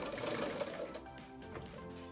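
A sewing machine stitches the first inch or so of a baby girl's skirt fabric with steady, rapid mechanical whirring. The run is continuous and moderately loud, slowing slightly toward the end with no talking.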